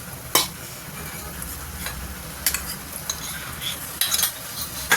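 A utensil scrapes and clinks against a pan in irregular strokes while thick spiced yogurt gravy thinned with a little water simmers softly underneath over low heat; several sharp metallic taps stand out.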